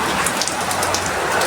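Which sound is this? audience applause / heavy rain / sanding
heavy rain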